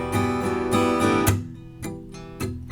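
Palm-muted electric guitar rhythm strumming, short choppy chord strokes with clipped decay and gaps between hits, a few accented chunks close and moderately loud, no voices.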